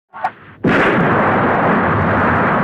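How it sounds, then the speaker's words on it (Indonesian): Massive explosion from the eruption of the Mount Ciremai volcano in an Indonesian Jaka Sembung action story: a short preceding bang, then a sudden, very loud blast that rolls into a sustained, dense roar. "suara ledakan dahsyat dari letusan Gunung Ciremai"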